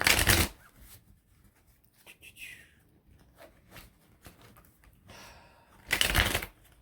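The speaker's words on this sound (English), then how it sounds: "I'm using the Mystic Mondays Tarot deck." Mystic Mondays tarot cards being shuffled, with two loud riffling bursts at the start and end and softer card handling and taps in between.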